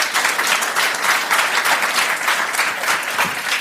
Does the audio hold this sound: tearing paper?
no